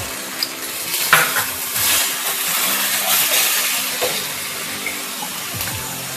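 Water poured into spiced potatoes frying in a pan for a Bengali prawn curry, giving a rush of sputtering hiss with clinks of a utensil against the pan, steady and close with no talking.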